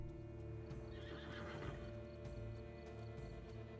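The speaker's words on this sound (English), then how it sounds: "hello horse, hello horsey" A horse whinnies with a drawn-out, wavering neigh in The Witcher 3: Blood and Wine, alongside faint hoof clip-clops over a quiet background.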